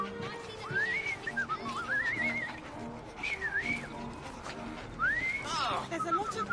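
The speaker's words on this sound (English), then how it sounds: "I've just learned to whistle." A character in the game Assassin's Creed Syndicate whistles a few swooping, melodic phrases, each sliding up and down in pitch, with short pauses between them, moderately loud and close over a steady murmur of background ambience.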